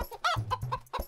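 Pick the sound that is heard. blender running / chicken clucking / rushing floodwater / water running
chicken clucking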